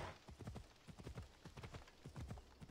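Galloping horse in Assassin's Creed Odyssey, a steady rapid clip-clop of hooves close up, running alone without talk for nearly three seconds.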